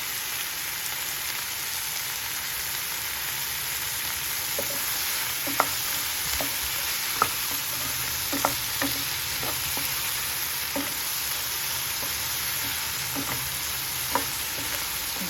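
Capsicum pieces fry in oil in a pan with a continuous hiss, while a spoon stirs and knocks against the metal in scattered clicks.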